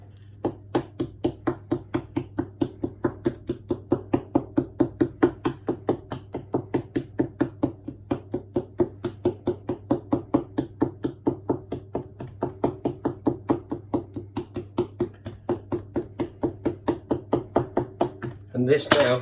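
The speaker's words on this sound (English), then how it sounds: "you prick it with a fork" A fork pricks shortbread dough for millionaire's shortbread in a steady, rapid run of soft close taps, dozens in sequence, with a brief louder clatter at the end.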